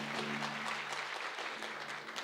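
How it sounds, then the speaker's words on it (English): Steady crowd applause fills a signing ceremony between the City of Longmont and the Northern Arapaho, a dense, even wash of clapping that holds at the same level throughout. "I have to have a title to get applause"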